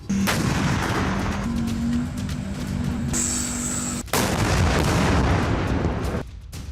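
Heavy artillery shelling and missile explosions hit Belgorod: loud, sustained booming blasts and rumbling fire, close and powerful, with one brief break before the barrage resumes.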